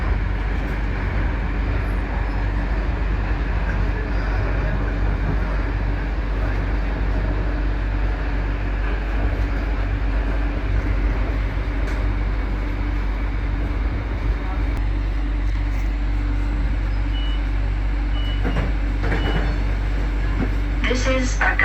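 Glasgow low level train drawing into an underground station, a steady loud rumble of wheels and carriage noise that runs the whole time with a few brief higher squeals near the end.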